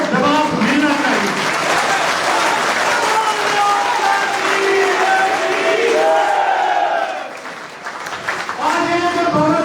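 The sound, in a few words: crowd applause at political rally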